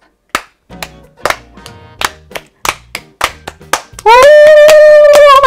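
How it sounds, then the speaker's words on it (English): Rhythmic clap-and-tap pattern done with hands during a first-grade music class game, about a dozen sharp, evenly spaced hits close to the listener, followed by a loud sustained sung or shouted tone at the end. "you can do clap and tap, clap and tap"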